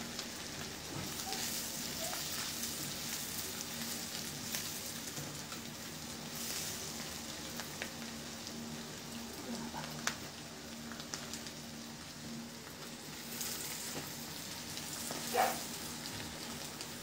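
Kasuri methi lightly frying in a pan, a soft, even sizzle that holds steady at low level with faint stirring scrapes.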